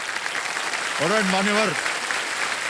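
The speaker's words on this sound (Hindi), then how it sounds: "एक बार जोरदार फिर से ताली बज जाए इनके लिए" Studio audience applause on a Hindi quiz show set, a dense broadband wash of clapping running throughout, with a voice speaking briefly over it partway through.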